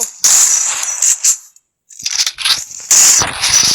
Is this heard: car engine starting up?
no